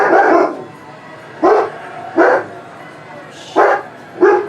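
A dog barks nearby in five separate loud bursts spaced about a second apart, with quieter background noise in the pauses between them.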